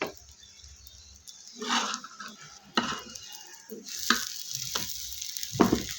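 Iftar food fries in a home kitchen, with sizzling oil under clattering pots, scraping utensils and stirring, in irregular bursts of clinks and spatter close by.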